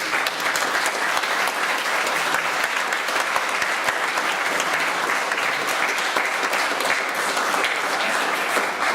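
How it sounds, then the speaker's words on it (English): A university audience gives presenters a round of applause, a full, sustained roar of many clapping hands that stays loud and even for about nine seconds. "let's give all of our presenters another round of applause"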